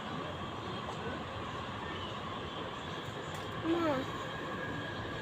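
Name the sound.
passing train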